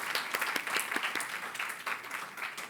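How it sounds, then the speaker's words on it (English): Steady applause from a conference audience at a Japan–AfDB forum on energy in Africa, many hands clapping densely and evenly for nearly three seconds at moderate distance, with no talking over it. "please, give a round of applause."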